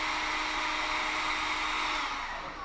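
Heat gun blowing hot air onto a heat-shrink wire connector during a dry bilge installation: a steady, close, whooshing hum that holds evenly and then clicks off at the end.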